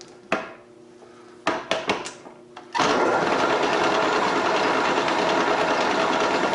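A 3/16 inch center-cutting end mill plunges holes in a bracket for a Pratt and Whitney lathe restoration. A few sharp mechanical clicks and knocks come first, then a loud, steady machining whir begins and continues.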